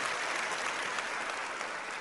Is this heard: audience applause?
yes